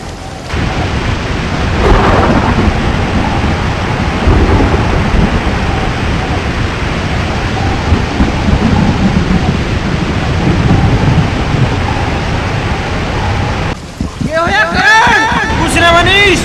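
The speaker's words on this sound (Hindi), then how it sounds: "बारिश हो रही है" Heavy rain pours steadily, with a deep thunder rumble early on, in a village setting from a Haryanvi film; the downpour roars on continuously while a voice cries out briefly near the end.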